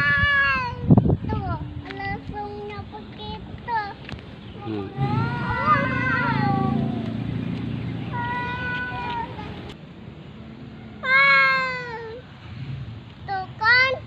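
Cats fighting at home, with repeated loud, drawn-out meows and yowling caterwauls rising and falling close by, broken by short pauses and a sharp hiss-like burst, while people talk in between.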